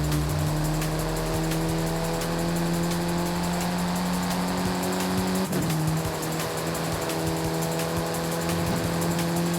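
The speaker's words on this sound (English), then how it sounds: "Well, it sounds like you've got a very nice car there, Haru." A car engine drones steadily in the racing game Forza Horizon 5, a loud sustained hum that shifts gear once midway, with faint tire noise and no talk.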